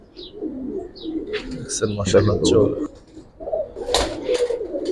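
Giribaz pigeons coo in a loft, giving low, rolling calls that swell and fade with a few higher chirps, while voices talk nearby.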